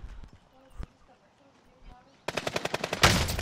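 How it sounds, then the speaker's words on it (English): Gunfire in a tactical shooter video game: a single sharp sniper crack early on, then a loud rapid burst of shots near the end, with players talking over it. "Oh, shit. I got sniped from the left."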